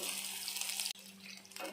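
Onion pieces and green chillies fry in hot oil with seasoning spices in a pan, giving a bright, continuous sizzle that briefly cuts out midway before resuming with stirring noises.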